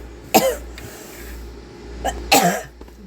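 Two sharp, harsh coughs about two seconds apart, close and loud, over a low background hum.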